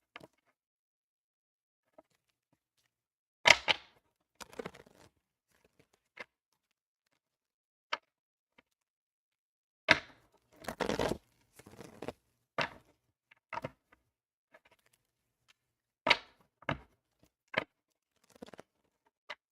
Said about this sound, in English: Actually, I want to shuffle this a little bit more.